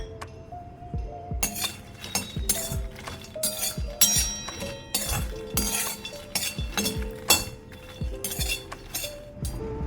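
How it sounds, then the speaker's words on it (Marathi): Makhana (fox nuts) tumbling and rattling in a hot pan as they are roasted and stirred, giving a busy run of close, clinking knocks and scrapes that repeats at an irregular pace from start to finish. "आता आपल्याला सर्वात आधी मखाने छान भाजून घ्यायचे आहेत"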